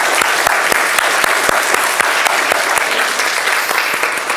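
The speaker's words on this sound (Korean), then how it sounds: "우리 대신해서 우리 천사들과 함께 올려주신 성가대께 다시 한번 감사의 박수를 드리겠습니다." A church congregation gives the choir a loud, sustained round of applause, dense steady clapping filling the hall throughout.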